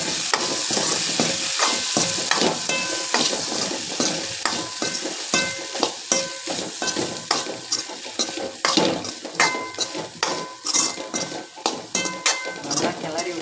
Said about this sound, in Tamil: கிளறி விட்டலாம்.